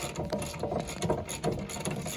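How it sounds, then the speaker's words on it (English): A hand ratchet loosens a brake caliper bracket bolt on a Dodge Ram, with rapid repeated clicking of the pawl in short bursts, close up and fairly quiet. "I'm just going to use a ratchet, do it the old-fashioned way"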